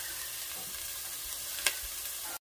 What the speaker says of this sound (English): here we have our beautiful ground beef that we'll be using to make this dirty rice. Just breaking it up, separating it real good.